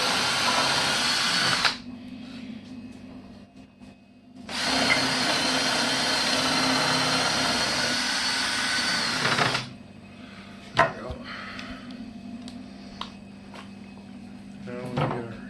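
A power drill cuts countersinks into the front bars of a child's wooden bed frame, running loudly in two sustained bursts of about two and five seconds, followed by quieter clicks and handling of tools.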